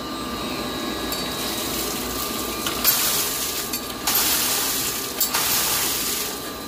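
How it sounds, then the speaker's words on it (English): A booster pump check valve being blown back to flush out dirty water: a continuous gushing, hissing rush of water and pressure with several sharp bursts and clanks, close by and with no talk. "I'm gonna blow this guy back real quick, and you'll see the dirty water come out."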